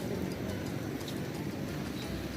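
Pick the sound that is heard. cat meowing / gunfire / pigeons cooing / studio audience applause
pigeons cooing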